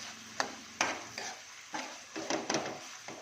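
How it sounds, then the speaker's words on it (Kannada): Mint leaves stirred and frying in oil in a pan, giving a soft steady sizzle broken by several sharp scraping clacks of the spoon against the pan. "ಪುದೀನ ಸ್ವಲ್ಪ ಮಿಕ್ಸ್ ಮಾಡ್ತೀನಿ ಸ್ವಲ್ಪ ಎಣ್ಣೆ ಒಳಗೆ ಫ್ರೈ ಆಗ್ಲತ್ತೆ"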